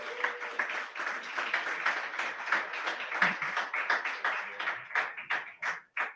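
An audience at a cultural event claps after a poetry reading. The applause is moderately loud and close, and it thins into scattered individual claps before stopping.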